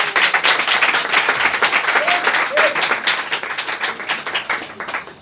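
A church congregation at a French-language sermon breaks into dense, sustained applause and clapping, loud and close, with some cheering voices mixed in, gradually thinning toward the end.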